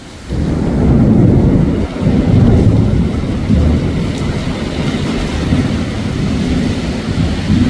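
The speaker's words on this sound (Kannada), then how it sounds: "ಮಳೆ ಮಾತ್ರ ಅಲ್ಲ, ಗಾಳಿ ಕೂಡ, ಮಿಂಚು ಕೂಡ ಬರ್ತಾ ಉಂಟು" A heavy, roaring storm of driving rain and gusting wind with lightning pours on steadily and loudly over a coconut plantation, a dense wash with a brief dip partway through.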